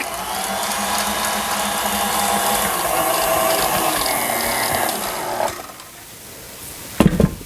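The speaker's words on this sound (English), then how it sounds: "And you want to whisk this until it's very thick." Egg mixture with vanilla extract is beaten hard until thick, likely with an electric mixer, which makes a steady mechanical whirring for about five seconds. It stops abruptly, and a few quick clatters follow.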